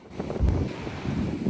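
Wind gusting at New Vypin beach buffets the microphone in a steady low rumble that swells briefly in the middle, with no voices over it.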